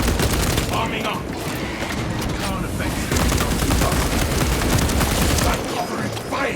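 Rapid, dense gunfire rattles continuously in Warhammer 40K Space Marine 2 during a Vanguard-class mission to retake a map, with bursts and explosions piling up loudly while voices shout intermittently over the fighting.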